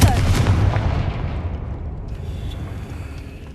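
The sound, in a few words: Confringo explosive spell cast in Hogwarts Legacy video game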